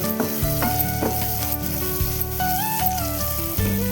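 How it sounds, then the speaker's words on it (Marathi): Chopped onion with asafoetida sizzles and fries steadily in a pan over low heat, a constant close crackle with occasional stirring scrapes, no talk. "कांदा परतत असताना आपण गॅस स्लो केलेला आहे."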